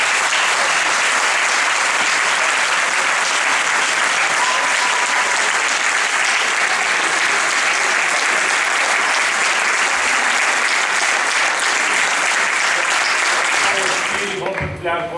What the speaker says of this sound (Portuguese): ele merece uma enorme salva de palmas